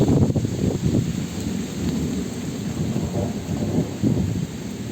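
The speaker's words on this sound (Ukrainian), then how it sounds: "Так, ще більший дощ почався" Heavy rain pours steadily close by while deep thunder rumbles through it in rolling surges, with no voices.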